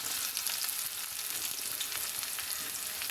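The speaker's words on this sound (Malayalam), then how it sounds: "ഇനി നമ്മളിതിനകത്തിലേക്ക് നമ്മുടെ കൊച്ചുള്ളി നമ്മളിടുമ്പോൾ നല്ലതുപോലെ മൂപ്പിക്കണേ" Small onions, shallots, frying in a pan with dense, continuous crackling sizzle up close, bright and steady throughout with no voices.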